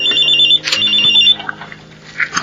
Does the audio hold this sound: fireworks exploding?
no